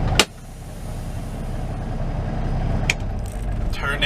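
An old cabover truck's engine idles with a steady low rumble. Faint clicks and rattles sit on top, a sharp knock comes near the start and another near the end, and no one speaks.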